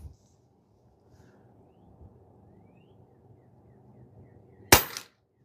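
A single sharp crack from a Pinty 9 .22 caliber PCP bullpup pellet air gun rings out near the end, loud and close, after several seconds of low outdoor background rumble.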